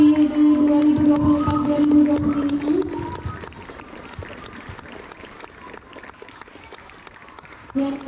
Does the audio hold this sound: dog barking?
no